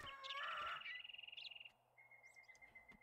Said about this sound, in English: There's a bird right there.